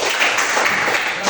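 Children in an elementary school class applaud, a brief, continuous burst of close clapping that runs through the whole moment.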